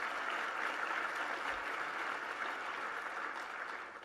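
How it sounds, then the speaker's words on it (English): Audience applause at an awards ceremony and luncheon in a hall, steady dense clapping filling the whole stretch and easing slightly at the end, with no voices over it. "Please give them a big round of applause."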